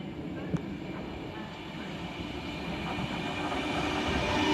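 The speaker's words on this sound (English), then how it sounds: "Seems to be a bit of a backlash of trains going into Euston at the minute." A Class 390 electric train passes through Watford Junction with a steady rolling rumble that grows louder toward the end, and a brief click near the start.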